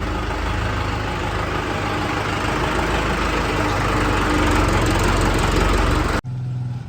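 A loud, steady engine rumbles and idles close by, then cuts abruptly near the end, leaving a quieter low hum.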